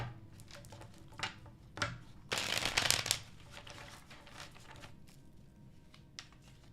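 Tarot cards being shuffled by hand, a series of soft riffling and slapping bursts with one longer, louder riffle in the middle, then quieter taps as the deck settles.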